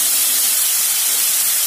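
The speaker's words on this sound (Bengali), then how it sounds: "আর একটু সামান্য জল দেবো।" Water hits a hot pan of peas and green chillies, giving a brief, loud, steady hiss of steam and sizzle.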